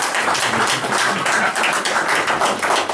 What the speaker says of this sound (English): give a big round of applause for the League of Women Voters